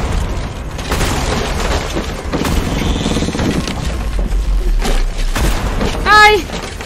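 Hostile gunfire and booming impacts from enemies in the game Darq, a dense, loud stretch of bursts and thuds throughout, with a brief high warbling sound near the end.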